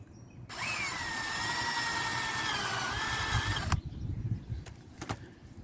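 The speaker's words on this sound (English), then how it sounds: "Just drill a big enough hole" A power drill bores a hole into garden soil to plant Brussels sprouts, a steady loud whirring motor that runs for about three seconds and then stops, followed by a few faint knocks.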